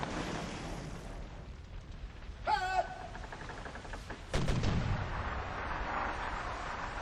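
Ship cannons fire a broadside in Sid Meier's Pirates!, with two separate booming shots a couple of seconds apart over faint background sound and a brief tonal game sound in between.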